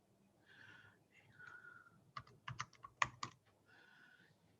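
Fingers typing on a computer keyboard, a short cluster of sharp key clicks close by and fairly faint, with soft breathing or murmuring before and after.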